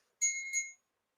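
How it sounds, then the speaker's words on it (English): A single small bell rings with two quick, clear metallic strikes that blend into one bright ringing tone and fade within a second, close and alone in silence. "There's the bell. Yeah, that bell right there."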